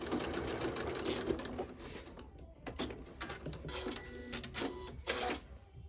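A sewing machine stitches binding onto a quilt, a steady close mechanical whir with a short pause and restart, then brief back-stitch bursts.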